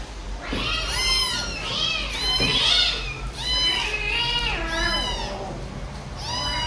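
Several small kittens at a cat shelter meowing repeatedly in high, overlapping cries, close and insistent, over a low background hum.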